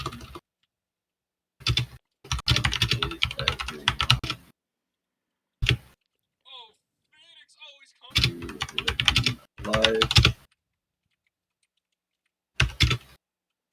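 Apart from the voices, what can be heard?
typing on a clicky computer keyboard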